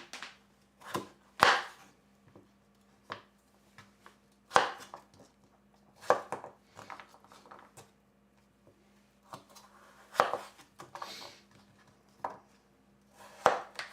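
Knife chopping squash into bite-sized pieces for Thai red curry, with irregular sharp chops against a board, some in quick pairs, at close range with no talk.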